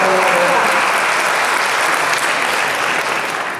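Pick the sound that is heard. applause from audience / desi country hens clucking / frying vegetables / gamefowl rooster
applause from audience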